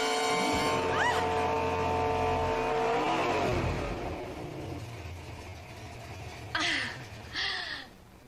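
A race car engine revs steadily higher toward its red line, a loud sustained roar with rising harmonic whine that eases off, followed by a couple of brief bursts of higher noise near the end.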